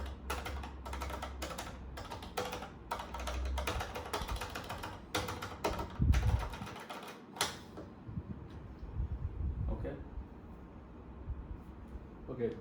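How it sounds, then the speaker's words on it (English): Buttons on a Pandora 28S Pro arcade game console pressed in rapid clattering runs of taps, like typing, close and fairly quiet, then sparser clicks after a short pause; faint talk may sit underneath. "and this is the sound of the buttons."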